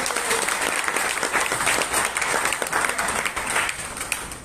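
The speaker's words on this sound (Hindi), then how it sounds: "देखिए, हम देख रहे हैं कब से आप लोग ताली बजा रहे हैं।" Indoor MLM seminar audience claps loudly and continuously, a thick close wash of applause with some uneven individual claps poking through and faint crowd murmur beneath.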